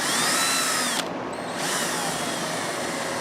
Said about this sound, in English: just attach it to the end of a drill like you would any sort of regular drill bit and rotate it